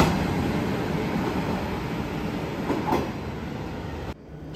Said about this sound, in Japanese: そして今から乗車するのが向こうにいる珍しい八代発の博多行きの列車です。